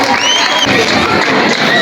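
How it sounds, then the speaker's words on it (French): A crowd at a school excellence ceremony at a bilingual secondary school cheers and applauds, a loud continuous wash of clapping with shouts and voices mixed in throughout. "Applaudissez très fort"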